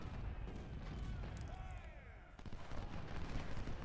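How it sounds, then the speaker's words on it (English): Cannon and gunfire in an Ultimate General Civil War battle at Gaines Mill, heard as continuous low booming and crackling shots blending into a dense, loud barrage throughout. "They're getting cannon fire on this side"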